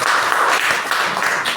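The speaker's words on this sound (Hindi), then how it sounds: "ताली बजाओ उनके लिए" Students in a classroom clap for a classmate, a brief burst of dense, close applause with no talk over it.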